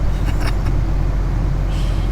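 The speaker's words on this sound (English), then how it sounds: "But no, this truck just came in." A scrap truck pulls into a junkyard, its engine giving a steady low rumble close by, with a few brief clanks early on and no talk.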